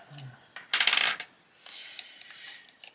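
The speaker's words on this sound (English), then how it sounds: "I'm just going to sharpen my pencils" Coloured pencils are sharpened in a short, close burst of crisp scraping and clicking, loudest near the first second, followed by lighter grinding rasps that taper off.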